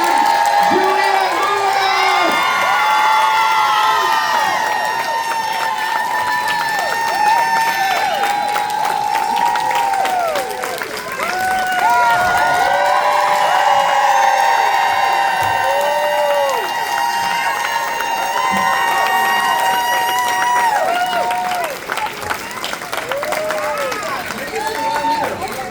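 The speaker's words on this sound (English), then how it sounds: "Stand up if you can and scream for one of the best performers of all time, Juliette!" Convention panel crowd at a horror fan weekend screams, cheers and applauds continuously and loudly, with whoops and shouts layered over sustained clapping, while an announcer's voice carries through the din.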